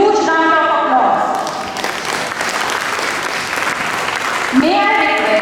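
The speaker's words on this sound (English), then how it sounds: "Let's acknowledge the presence of Father Maria Paul with a huge round of applause." An audience at a school's annual exhibition, at St. Raphael's Academy in Indore, gives a priest a big round of applause. Dense clapping swells in the middle, bracketed by a voice and tonal sounds at the start and end.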